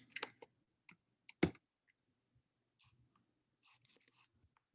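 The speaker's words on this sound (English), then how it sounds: "typing it in" Several sharp key clicks from typing a discount code on a computer keyboard, a quick burst early on followed by sparse, fainter taps in a quiet room.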